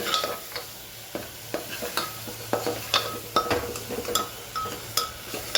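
Food stirred and mixed in a pan with dried chili added, a spoon tapping and scraping the metal in a quick uneven rhythm over a soft sizzle, close and clear, with no speech.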